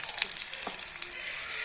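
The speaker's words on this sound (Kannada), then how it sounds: "ಈಗ ಇದಕ್ಕೆ ಒಗ್ಗರಣೆ ಎಲೆಯನ್ನು ಹಾಕುವ." Curry leaves crackle and sizzle in hot oil for a tempering in an aloo matar gassi, a quiet, dense hiss with a few sharp pops and no talking.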